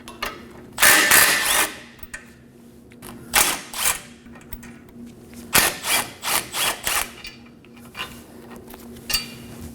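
Ratchet with an 18mm socket breaking loose and removing bolts on the front left CV axle assembly of a 2016-2020 Kia Sorento: bursts of rapid metallic clicking, close and fairly loud, separated by short pauses, with no talking.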